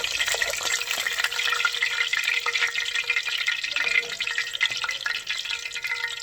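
Empanadas sizzling in hot grease give off a steady, bright hiss with crackling pops, close and continuous throughout.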